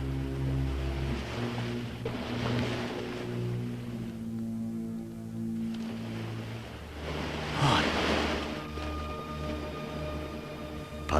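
Cold sea wind and waves wash against the shore in a steady broad rush that swells and fades, heard under a sustained low musical score from a 1973 Korean film.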